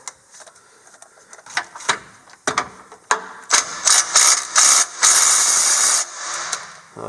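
A socket ratchet tightens a bolt on a Curt receiver hitch on a Toyota FJ Cruiser, with loud close bursts of rapid clicking that speed into long continuous ratcheting runs between short pauses.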